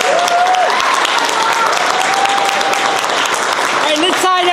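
Steady crowd applause for speakers at a governor's behavioral health bill signing, continuous clapping throughout with faint voices mixed in and a brief louder voice near the end.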